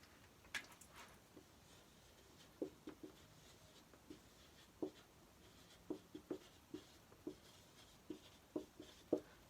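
A pen writes out a cosine rule formula on paper with quiet, close scratching strokes in short irregular bursts separated by brief pauses.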